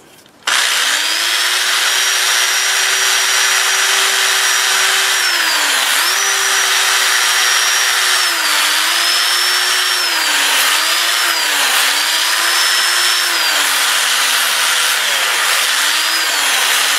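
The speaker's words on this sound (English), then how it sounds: "just holding the piece and sanding these areas by hand, and I'll spin it in reverse at about 400" Apple wood bowl spinning on a lathe in reverse at about 400 RPM while being hand-sanded, a steady loud whirring hum with a continuous abrasive rubbing hiss that shifts slightly in pitch, running alone throughout.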